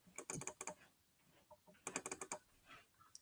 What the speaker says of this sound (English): I'm going to do a triple click.